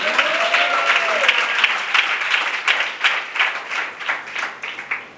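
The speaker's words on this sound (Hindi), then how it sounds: "ताली वाली बजाओ ना थोड़ा यार।" An audience at a church sermon claps in a steady patter of many hands, moderately loud, thinning into separate claps toward the end, with a few faint voices under the clapping.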